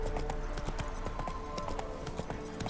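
Horse hooves clip-clop at a steady galloping rhythm in The Witcher 3 video game, close and continuous over a dense bed of game ambience.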